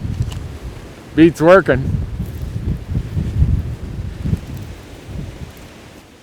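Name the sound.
wind blowing outdoors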